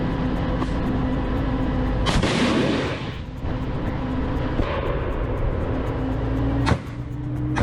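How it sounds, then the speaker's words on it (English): An M2 Bradley fighting vehicle in Ukraine fires a TOW missile, a loud launch blast followed by a roaring rush, over a steady rumbling engine drone and a later sharp bang. "It stops, releases smoke, and a TOW missile."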